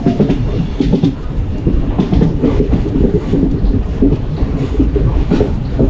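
A Palaruvi Express passenger train in sleeper class rumbles along loudly and continuously, wheels clattering over the rails at close range, with no voices.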